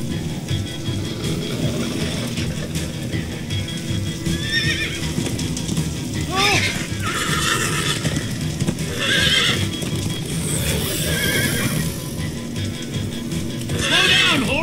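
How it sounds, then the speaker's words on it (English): Horses whinny repeatedly over a steady patter of clip-clopping hooves and background rumble, the neighs rising and falling several times, in Minecraft: Story Mode. "On to the horses we are on!"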